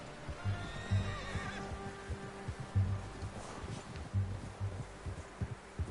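A horse in Red Dead Redemption 2 whinnies and snorts several times at moderate distance, with soft hoof shuffles and rustling in between, no talk over it.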